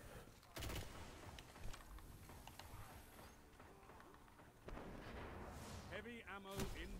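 Video game combat: a sharp explosive burst opens the clip, followed by continuous rattling gunfire and clatter, then a second loud blast near the end.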